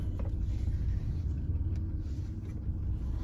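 Steady low road rumble of a car being driven, continuous and close with a smooth engine drone throughout, no talk.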